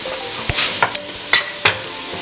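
Cloves and onions browning in a pan of oil for a beef and potato curry give a steady soft sizzle, broken by a few sharp scrapes and clicks as a utensil stirs them.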